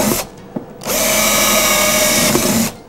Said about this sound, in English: The next thing I'm going to do is to drill holes in the fin sockets and in the fins.